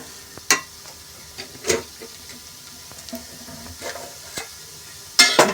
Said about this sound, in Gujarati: ચાટ મસાલો, જીરું અને મરી પાવડર નાખી હવે આપણે આને મિક્સ કરવાનું છે